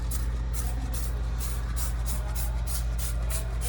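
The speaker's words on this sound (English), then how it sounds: "So I'm just gonna spray the whole entire floor pan," Rapid repeated bursts of spray, about a dozen quick hissing pumps of cleaner onto a Nissan 350Z floor pan in steady rhythm over a constant low engine-like hum.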